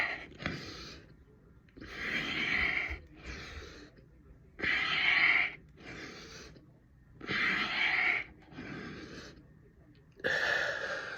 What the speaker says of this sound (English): So what I do is breathe in, right? Breathe out.